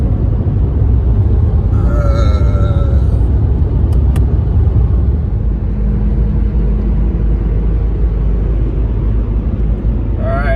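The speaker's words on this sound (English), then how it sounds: "So I'm driving across eastern Washington." A car climbs uphill toward Snoqualmie Pass in eastern Washington, its engine and road noise forming a loud, steady rumble throughout with no talk.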